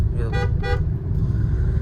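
A repaired car horn that had stopped working sounds in two short honks, loud and close over a steady low engine rumble.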